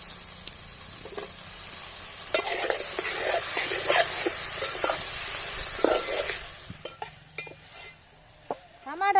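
Spiny bitter gourd (boda kakarakaya) pieces fry in a pan with turmeric and ginger, giving a steady close sizzling hiss under scattered scraping stirs, with a few sharper clinks of a spoon near the end.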